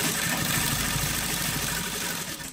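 Electric sewing machine running steadily as it stitches trouser fabric pieces along the edge, a continuous close motor whir and rapid needle chatter that carries on without pause and then fades at the end.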